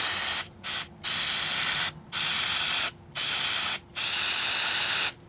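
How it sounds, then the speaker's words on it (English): Aerosol cleaner sprayed onto a dirty Tecumseh mower carburetor bowl in six hissing bursts of varying length, separated by short pauses, close and loud with no talk. "So I'm just going to give it a few good sprays, kind of clean it off a little bit"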